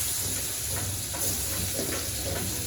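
Prawns fry lightly with salt in a pan, giving a loud, continuous close sizzle with soft stirring movements and no voices.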